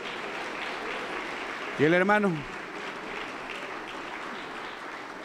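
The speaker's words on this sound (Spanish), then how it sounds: "Fuerte aplauso. Contento para Jesús." A Pentecostal congregation in Cajamarca claps steadily through the moment, a constant moderate patter, while a single voice briefly cuts in over it partway through.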